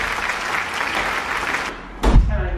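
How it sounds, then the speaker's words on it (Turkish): A room of people applauds as a jury member is welcomed in during a doll hair-styling challenge at home; a steady burst of clapping fades before a brief thump near the end. "Alkışlarla"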